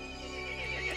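A brief, strained horse whinny in Resident Evil Village sounds over a dense, reverberant backdrop, lasting about a second.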